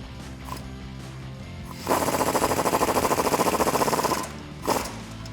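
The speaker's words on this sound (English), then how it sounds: "Now we're tightening up the bottom bolt here for our shock." Ratchet with 18 mm tools tightens the lower shock bolt on a Jeep Wrangler JL, a quick run of rapid, evenly spaced clicks lasting about two seconds, close and loud, with a few faint knocks before and after.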